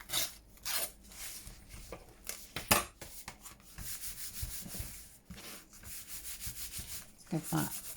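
Paper dampened with glue being rubbed by hand to lift off excess glue while crafting a junk journal, a close, quiet series of uneven scrubbing and scraping strokes.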